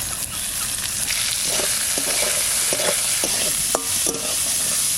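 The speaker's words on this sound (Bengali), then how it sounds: "সামান্য আলু কটা দিয়ে দিচ্ছি লবণ হলুদ একদম মশলা ছাড়া সাথে রান্না করব পেঁয়াজটা দিয়ে দিচ্ছি" Potatoes and onion frying in a pan with salt and turmeric, a steady close sizzle with a few soft stirring clicks and scrapes toward the end, no talking.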